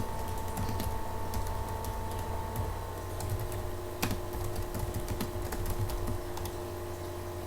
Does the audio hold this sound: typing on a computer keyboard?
yes